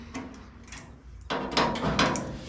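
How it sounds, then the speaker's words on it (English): Hammer blows on a bent metal cockpit brace for a car, a few sharp metallic knocks early, then a denser cluster of louder close strikes in the second half. "I might be able to just go ahead and start hammering"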